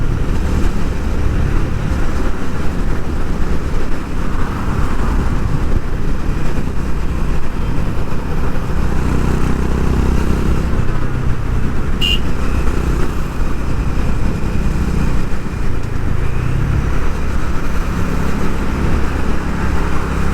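A Honda H'ness CB350 motorcycle rides through city traffic, its engine a steady, loud drone held throughout, with road and traffic noise blended in and no voices.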